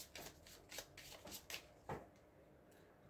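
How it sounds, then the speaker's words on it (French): Tarot cards are spread out on a surface with a series of quick soft swishes and slides, about six or seven brushing strokes, close and quiet, with no speech. "Je vais étaler les cartes."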